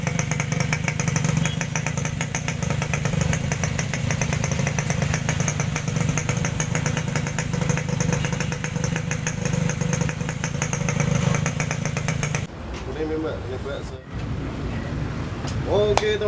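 A 1981 Yamaha RX King two-stroke motorcycle idling nearby, a steady buzzing rattle that runs for about twelve seconds before it cuts out, followed by quieter workshop sounds with someone talking.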